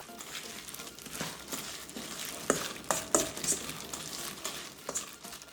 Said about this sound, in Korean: 설렁설렁 으깨지지 않게 버무려줬다.